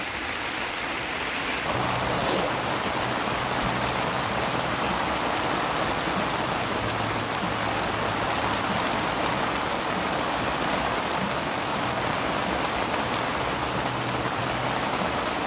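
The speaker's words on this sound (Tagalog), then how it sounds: "kaya malakas ang ulan ngayon dito sa sa area namin" Steady heavy rain pours down continuously, a dense broadband hiss with no voices, loud and close throughout.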